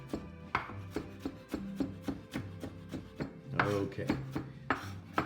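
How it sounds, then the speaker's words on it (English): A knife chops onion on a board in a brisk, even rhythm of sharp knocks, close and clear, with one short spoken word partway through. "I'm going to chop this up, because the last thing you want to do is bite into a big chunk of onion."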